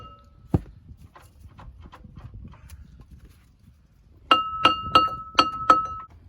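A hammer taps the front brake disc of a Ford Fiesta MK7 to knock it free: one early metallic strike, scattered light knocks, then a quick run of five ringing, bell-like metal blows close up.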